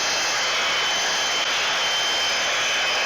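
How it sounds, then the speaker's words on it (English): A belt sander grinds a wooden charcuterie board level, a loud, steady, unbroken roar with a dense hiss and no pauses. "Sanded it level on the belt sander."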